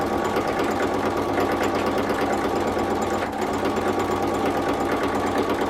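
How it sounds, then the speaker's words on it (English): A sewing machine runs steadily, stitching a quarter-inch seam along quilt fabric, its rapid mechanical whir and needle clatter close and continuous with a brief dip partway through. "And I'm just stitching a 1/4 inch all the way down"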